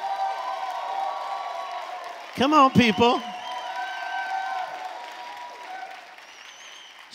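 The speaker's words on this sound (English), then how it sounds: "Clap your hands and shout like it's actually going to happen." A keynote audience claps and cheers, a broad continuous wash of applause and whoops under a voice urging them on, the speech standing out loud and close for a moment mid-clip.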